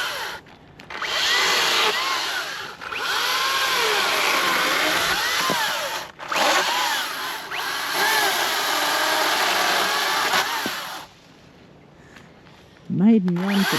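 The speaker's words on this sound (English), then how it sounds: "maiden run for the chainsaw." A chainsaw on its maiden run, by the Murray, buzzes loudly in two long sustained bursts with a short cut-out between, then falls quiet before a brief voice near the end.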